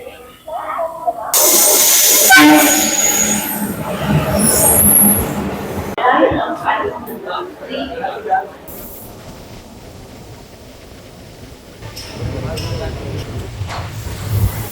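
Morning stopping passenger train noise with rumbling wheels and a loud burst of high hiss, rolling on under occasional talk, growing louder again toward the end.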